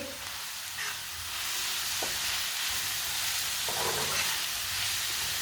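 Chicken fries in a hot pan with cumin and coriander, giving a steady close sizzle and hiss with occasional scrapes as a spoon stirs it, and no voices.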